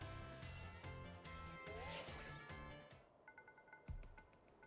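A phone rings in Pokemon Scarlet, a short repeating electronic tone heard near the end after a busy burst of game music and effects.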